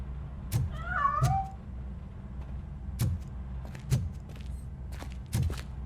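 A cat meowing as it escapes from hiding inside a piano, one clear wavering meow near the start over a steady low hum, with scattered thumps and scrapes around it.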